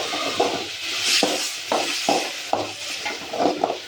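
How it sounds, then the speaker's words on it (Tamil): Tomato chutney with curry leaves, salt and a dried red chilli being stirred in a cooking pan, a spoon scraping and clinking against the metal in repeated strokes over a soft steady sizzle. "நல்லா கலந்து விட்டுருங்க."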